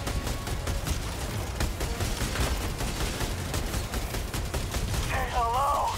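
Sustained turret fire in Helldivers 2 against bugs and bots: a continuous, dense stream of loud rapid shots with no pause, and a brief electronic warble near the end.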